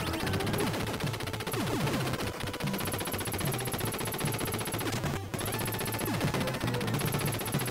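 Rapid, continuous machine-gun fire in the retro run-and-gun game Super C, dense and loud throughout with chiptune music and explosions blended in, no voices.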